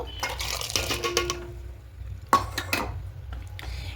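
Rice and chana dal go into a pot of steaming hot water for khichuri, a close clatter and rustle of grains pouring and scraping against metal, with one sharp knock in the middle.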